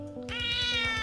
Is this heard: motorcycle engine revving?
no